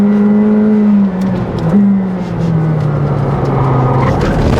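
A McLaren 765LT Spider engine holds a loud, steady drone under gentle acceleration, heard from inside the car with the pitch easing and shifting, no talking.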